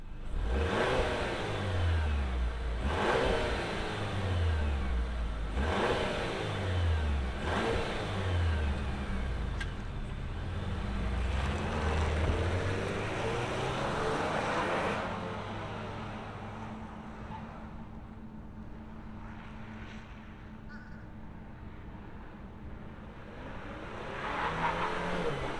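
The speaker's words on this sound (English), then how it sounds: "let's fire this up and see what the four banger sounds like" The four-cylinder engine of a 2024 Chevrolet Traverse Z71 starts and idles, then revs repeatedly in rising and falling sweeps, before settling into a steadier, quieter hum that swells again near the end, heard close up with no talking.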